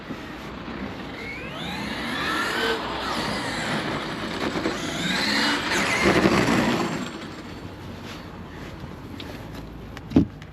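A remote-controlled car motor whines through rising and falling high-revving sweeps at full throttle, loud at first and then fading away, ending with a sharp knock.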